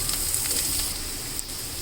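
Onions sizzle in a hot pan while a kondapindi leaf fry is cooked at home, a steady close frying hiss with faint crackles throughout and no talk.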